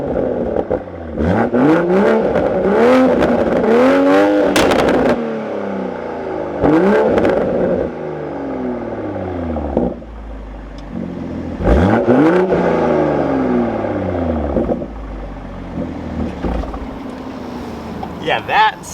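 A Toyota Supra MK5 fitted with a full AWE exhaust, which has no active valve, starts up and then revs hard several times, each sharp rise and fall loud and close, with short idle gaps between the blips.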